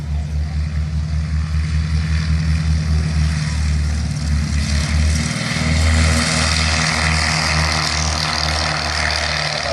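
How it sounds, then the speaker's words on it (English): Pitts Special aerobatic biplanes running their propeller engines at an airfield, a steady loud droning hum that swells slightly midway, with wind noise over it. "you can see a pair of pit specials running in to start their display"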